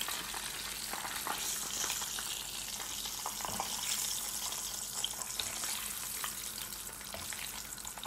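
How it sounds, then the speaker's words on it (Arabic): Doughnuts frying in hot oil, a quiet, steady bubbling sizzle with faint crackles and no voices throughout. "الحين لما نختمر ابدي اقلي هالطريقة"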